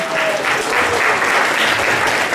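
An audience applauds students after a third-grade presidents play, a close, steady round of clapping with a faint voice briefly audible early on.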